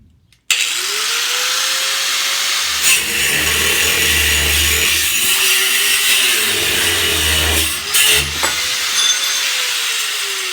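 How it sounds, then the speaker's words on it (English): A Harbor Freight angle grinder cuts through part of a Predator 212 engine with a loud, close, sustained grinding whine. The pitch sags and recovers as the blade bites and eases, with brief harsher scraping bursts. "Now this Harbor Freight angle grinder, that was like 7 minutes of cut."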